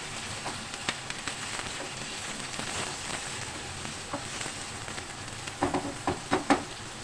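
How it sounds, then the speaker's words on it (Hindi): Five sliced medium onions fry in hot oil for chicken korma, a continuous sizzle broken by spoon scrapes and clinks that grow busier toward the end, with no voices. "अब इसमें प्याज डाल दें। दरमियाने साइज़ के 5 प्याज हैं स्लाइस में कटे हुए।"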